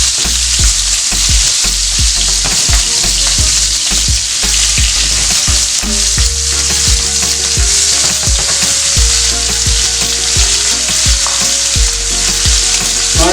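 Prawns cook in a hot pan with loud, close, continuous frying and sizzling, punctuated by repeated sharp stirring and utensil clatter, with a tonal hum in the background and no talk.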